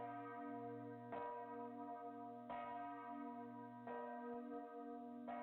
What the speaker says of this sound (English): The bells grow louder